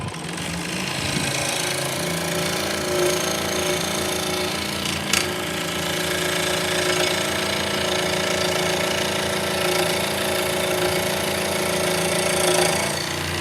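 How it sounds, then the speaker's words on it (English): A buffing wheel polishing a wooden drop spindle with compound gives a loud, steady motor whine and a continuous rough hum, close up and unbroken, with brief louder bumps as the piece is pressed against the wheel. "I put it in the buffing wheel with compound"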